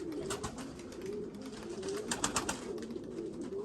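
A white pigeon coos softly through a few low, repeated phrases over faint background noise, out in the open during a flight session.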